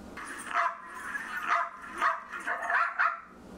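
A small dog's recorded barking plays back as a quick series of sharp yips and barks of uneven spacing, moderately loud and without talk.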